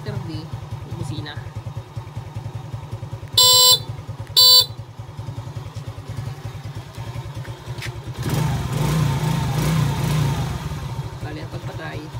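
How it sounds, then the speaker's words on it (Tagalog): Two short, loud blasts from a motorcycle horn set off by a DIY remote, sounding over a steadily idling engine that later swells briefly with a rev. "Letter D, busina."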